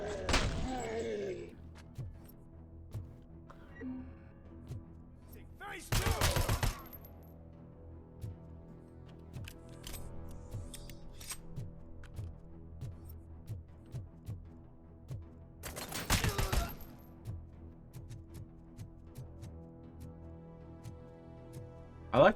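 Gunfire from the video game RoboCop: Rogue City: two heavy, loud blasts several seconds apart over a low droning game soundtrack, with scattered thuds and clinks between them.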